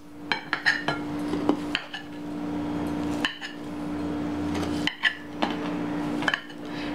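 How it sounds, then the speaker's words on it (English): Cooked crab meat chopped with a knife on a board: a series of sharp knocks and taps in irregular bursts, with short pauses between, over a steady low background hum and no talking. "they kind of chopped it for us, but I'm gonna chop it a bit more."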